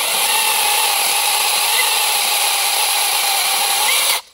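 A cordless battery chainsaw rated among the best of 2022-2023 cuts steadily through wood, a loud, continuous high whine that holds for about four seconds and then stops abruptly.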